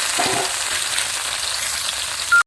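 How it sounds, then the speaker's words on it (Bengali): Okra frying in hot oil in a home kitchen gives a steady, close, loud sizzle for about two and a half seconds before cutting off abruptly. "তেল গরম হয়ে গেছে এবার ঢ্যাঁড়সগুলোকে দিয়ে দেবো"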